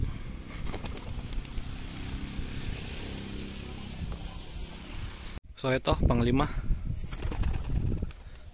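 Racing pigeons released one by one on a single toss in strong wind: soft wing flapping buried in steady wind rumble, then someone talks over it near the end.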